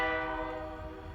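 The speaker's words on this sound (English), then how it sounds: "see that the train is here" A Kiamichi Railroad locomotive in Idabel, Oklahoma sounds its horn in one loud, sustained chord that fades slightly as it holds, heard alone outdoors.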